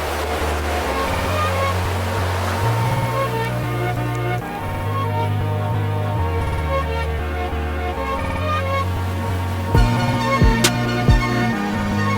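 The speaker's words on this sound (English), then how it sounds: "I've just been hanging out on the beach, enjoying the waves, and yeah, chilling out." Ocean waves wash onto a beach in a steady, loud roar of surf with a few brief bumps near the end, and no talk.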